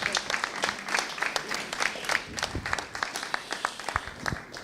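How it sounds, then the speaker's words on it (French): An audience at an association's general assembly gives scattered, moderately quiet applause, individual claps standing out in an uneven patter for several seconds. "je vous propose d'applaudir Pauline et de l'encourager."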